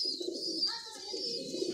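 A pigeon coos softly and close by in a short, low, rolling call that carries through the whole moment, with a faint higher chirp over it and no talking.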